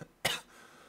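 A single short cough from a person playing Creativerse, one sharp burst near the start of the clip followed by quiet room tone.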